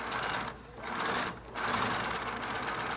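A sewing machine stitching through leather: a dense, rapid mechanical chatter, loud and close, broken by two brief pauses before running on steadily.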